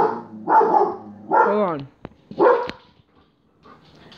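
A pet dog barks several times at a passerby on the street, sharp separate barks with falling tails spaced about a second apart, close and fairly loud, with a short spoken interjection in between.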